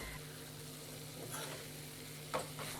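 Cabbage and chana dal curry with salt and garam masala stirred in a pot on the stove: a soft, steady sizzle with a few faint scraping strokes of the spoon, quiet and without talking.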